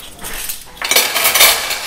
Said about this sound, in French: Donc mes couverts, je vais prendre ceux que j'ai.